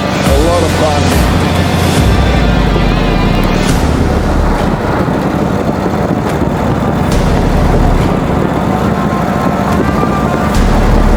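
A 1935 Indian Sport Scout motorcycle rides along at a steady pace, its engine a loud, continuous low rumble with road noise throughout, while faint voices come and go underneath.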